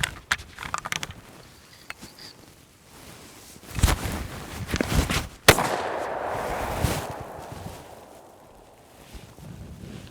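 A single loud 10 gauge semi-automatic shotgun blast cracks out sharply outdoors, followed by a short rumbling echo and some rustling, with lighter knocks and handling noises before it.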